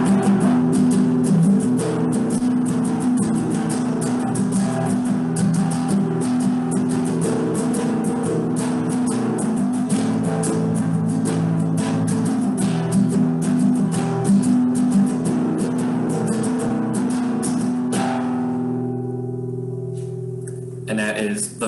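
A flamenco rumba strummed on guitar plays in a steady, busy rhythmic pattern of percussive strokes for about eighteen seconds, then trails off into a few ringing final chords and near silence.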